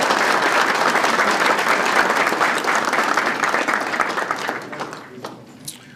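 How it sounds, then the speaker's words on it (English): Dense applause from an audience honoring families at a P.E.A.C.E. unit celebration, steady and full for about five seconds before thinning and tapering off at the end. "Give the families a round of applause."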